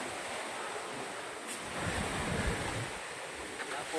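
Waves wash against the Taal Lake shore under steady wind buffeting the microphone, a soft continuous rush of surf and breeze with no clear voices.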